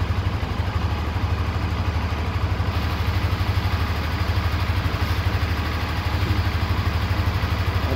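A 2019 Honda Twister motorcycle engine idles steadily up close, a fast even low chug that keeps a constant pace throughout with no voices.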